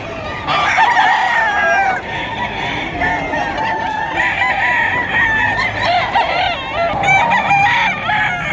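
Roosters at a crowded early-morning pet market in Bocaue, Bulacan crow loudly and repeatedly, overlapping calls ringing out almost continuously above a murmuring background.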